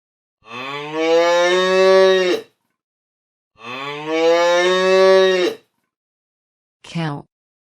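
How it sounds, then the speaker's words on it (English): A cow moos loudly and clearly twice, each long low call lasting about two seconds, followed by a short third grunt-like moo, with silence between. "Cow."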